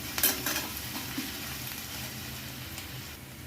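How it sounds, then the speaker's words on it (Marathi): Vegetables tossed and stir-fried in a pan for veg fried rice, home Chinese style, giving a steady soft sizzle with light scraping and stirring throughout, fairly close and without speech. "थोडंसं 2 मिनटं ही भाजी आपल्याला अशी टॉस करून घ्यायची।"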